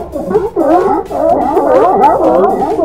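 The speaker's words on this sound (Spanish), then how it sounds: "Escuchen ese ruido, la cantidad y enormes lobos marinos que estamos mirando." A dense colony of sea lions at Isla Coronado, Loreto, Baja California, barks and bellows continuously, many overlapping hoarse calls close by with no pauses.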